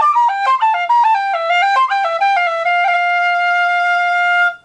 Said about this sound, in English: I also play a Sweetheart C whistle, also in blackwood